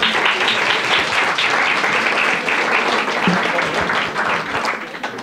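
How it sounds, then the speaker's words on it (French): A conference audience applauds a speaker in a hall, with dense, steady clapping that holds for about five seconds and eases off slightly near the end. "On peut applaudir notre conférencière."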